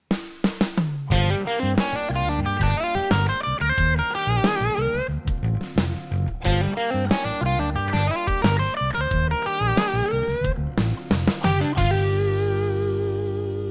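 Electric blues guitar lick, a variation on an earlier phrase, played alone with a distorted, effected tone: quick bent and picked notes in two joined phrases, loud and close, ending on a sustained chord.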